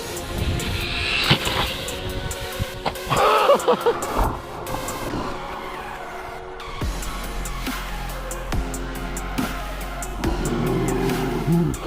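An MJX Hyper Go 14210 RC car drives over rough ground, its small electric motor whining and revving in bursts before it jumps and lands with a clatter, up close, while a voice talks intermittently.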